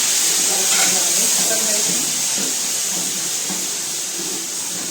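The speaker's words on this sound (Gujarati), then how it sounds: "હવે આપણે વઘાર કરશું તો પહેલાં હિંગ નાખશું" Asafoetida, ground cinnamon and clove, crushed ginger, chilli and coriander seeds tempered in hot oil give a steady loud hiss and sizzle throughout, with faint talk underneath.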